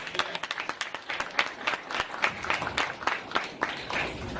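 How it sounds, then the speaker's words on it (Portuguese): A small audience at a talk applauds, individual sharp claps clearly separated and uneven in rhythm, close and moderately loud, continuing steadily for several seconds. "uma salva de palmas para o Guilherme"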